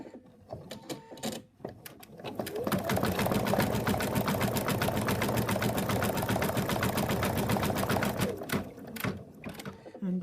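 An embroidery machine stitches for about eight steady seconds in a continuous fast, mechanical rattle, loud and close, with brief quieter mechanical movement before and after, on a Mr Ted teddy design.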